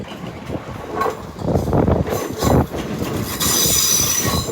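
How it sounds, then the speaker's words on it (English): A Class 350 Desiro electric train pulls into London Euston, wheels squealing loudly along the rails with steady rumbling and bursts of brake noise, close by and continuous on a snowy evening. "Pulling in now is 350, 370."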